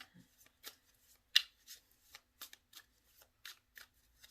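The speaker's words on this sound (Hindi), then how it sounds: "मैं इसे एक एक कार्ड निकाल रही हूँ" Tarot cards being shuffled and drawn one at a time for a general love and career reading: a series of short, crisp papery flicks and slaps at an irregular rhythm, close and fairly quiet, with no talking.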